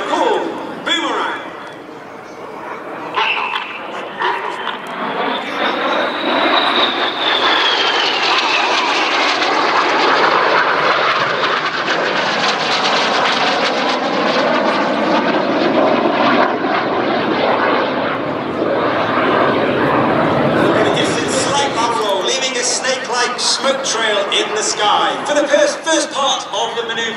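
Red Arrows jets flying a Boomerang aerobatic manoeuvre at an air display at Sywell, a loud continuous jet roar swelling and sweeping overhead, with a commentator and crowd chatter underneath.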